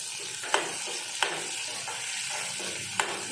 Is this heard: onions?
yes